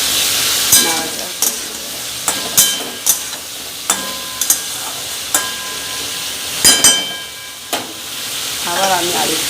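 A fish curry with radish and potato cooks in a pan, sizzling steadily while a spoon stirs it with repeated sharp scrapes and clinks at irregular intervals.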